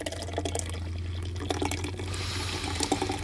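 Nitro Pepsi Draft Cola is poured hard, straight down into a glass, giving a steady rushing, fizzing liquid sound with small splashy bursts, close up and continuous for a few seconds with no talking.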